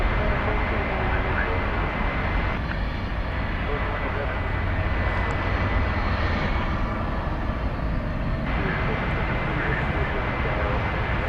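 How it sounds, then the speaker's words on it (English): A Boeing 737-800 takes off from DFW bound for Omaha, its engines a steady, broad roar that dominates throughout, with a voice speaking over it partway through. "Seven 737-800 off to Omaha, Nebraska. Flight 2628"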